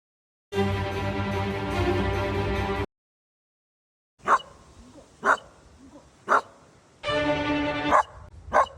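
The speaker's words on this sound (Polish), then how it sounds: "A potem przyszła pora na szczekanie." A dog barks in a series of sharp, evenly spaced barks, close and loud, between stretches of a sustained tonal sound.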